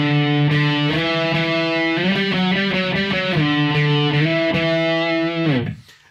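Distorted electric guitar riff on the fifth string played at full speed, a driven, effects-laden tone with quick hammer-on and pull-off note changes, loud and steady throughout before ringing off at the end.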